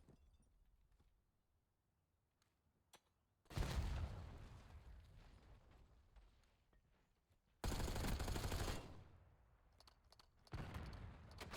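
Gunfire during a Call of Duty competitive match, with quiet scattered shots at first, then loud sustained bursts of automatic fire and explosive booms in several heavy waves.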